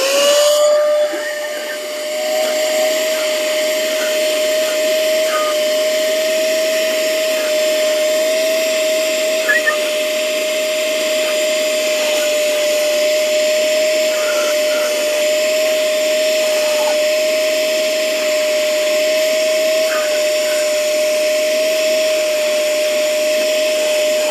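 A WORX WX030 cordless vacuum cleaner runs on turbo mode during car detailing, giving a steady, loud, high whine with a constant pitch that holds for the whole stretch, alone without talk.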